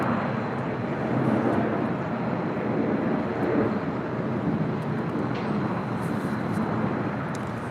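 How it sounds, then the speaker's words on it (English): A Southwest Airlines Boeing 737-700, Flight 3277 from Sacramento, landing at LAX, heard as a steady broad jet roar that holds loud and even throughout with no voices. "That was Southwest Airlines Flight 3277 coming in from Sacramento at a 737-700."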